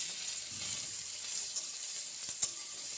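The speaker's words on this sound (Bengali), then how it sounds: "এখন আমি করলার বিচিগুলো তেলের মধ্যে আগে ছেড়ে দিই।" Bitter gourd seeds drop into hot oil and fry with a soft, steady hiss, faint and fairly distant, with a couple of small sharp pops near the end.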